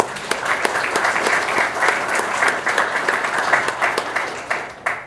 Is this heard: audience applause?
yes